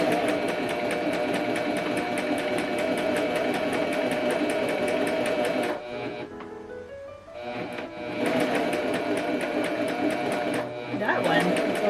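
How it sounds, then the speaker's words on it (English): A Pfaff Coverlock 4.0 runs slowly in steady stitching bursts, close and fairly loud, pausing briefly midway while pins are pulled before resuming its rapid mechanical clatter; a person talks over parts of it. "Sewing is just like a regular machine. I'm going slow, removing pins as I go."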